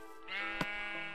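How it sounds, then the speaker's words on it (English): A single sheep bleat from Minecraft rings out clearly, a sustained, wavering baa with a sharp click partway through, close and loud with no talking. "Sheep!"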